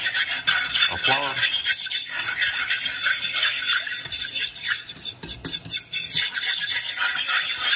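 Carrots, celery and flour stirred in a pot over a burner, a continuous gritty scraping and rasping of the spoon against the pot bottom, loud and close, steady throughout with brief clinks and no voices.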